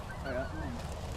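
Snow geese honking during a hunt, a faint flock of overlapping distant calls over a low steady background rumble.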